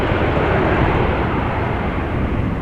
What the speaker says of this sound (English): You're watching departures from the Polderbaan